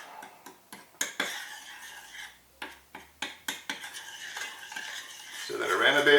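A spoon knocks and scrapes around a bowl of donut mixture in a series of distinct, irregular clacks and swishes, fairly close, followed by a louder rising noise at the end; no talking.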